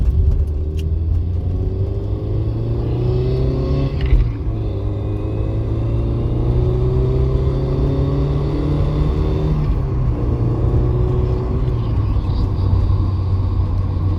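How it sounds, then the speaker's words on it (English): A Porsche 924 engine drones steadily from inside the cabin, its pitch climbing through the gears with brief dips at each shift. "She's pulling really well in all the gears, which is great."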